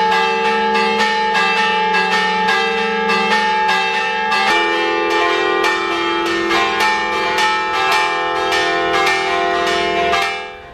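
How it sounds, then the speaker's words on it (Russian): Church bells of San Michele degli Scalzi in Pisa, whose bell tower leans, ringing loudly and close in a continuous peal of repeated overlapping strikes with long ringing tones, fading only at the very end. "Мы находимся у церкви Сан-Микеле дель Скальца."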